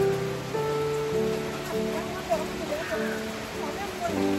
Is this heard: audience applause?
no